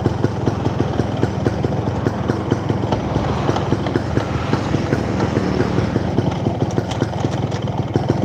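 A Yamaha RX King two-stroke motorcycle with a ported engine runs steadily, a dense rapid rattling pulse with heavy vibration, close and loud throughout.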